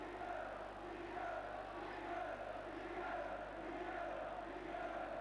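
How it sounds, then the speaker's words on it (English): A football crowd at Rotherham United versus Newcastle United chants the name of Bobby Robson, a faint, distant, rhythmic swell of many voices rising and falling over a low steady hum. "the chant from the crowd, if you can follow the Geordie accents, appears to be Bobby Robson"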